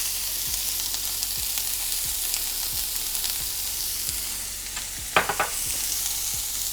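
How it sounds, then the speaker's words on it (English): Onions frying in oil in a hot cast iron skillet, a steady close hiss and crackle throughout with a few sharper pops and spatters near the end, no voices. "We have a hot cast iron skillet. We're gonna add a little bit of oil, 1 cup of onions,"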